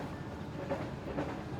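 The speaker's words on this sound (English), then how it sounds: "Look at that train shaking." Railroad cars rumble along the tracks in a Delta town, a low steady rolling noise with faint clickety-clack beats, heard at a moderate distance.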